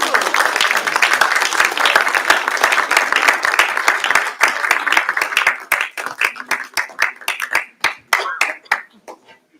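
A crowd at a church family graduation livestream claps and applauds loudly and densely, then thins into scattered individual claps that fade out toward the end.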